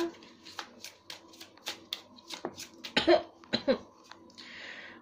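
A person coughs a few times in quick bursts, fairly close, amid soft rustling and handling noises like shuffled cards, with no clear talk.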